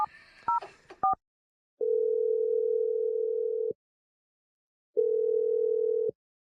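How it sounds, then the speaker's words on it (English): Keypad tones beep rapidly as a number is dialed on a phone, then two long, steady ringback tones sound with silence between them. "We're going to dial Vince's phone number"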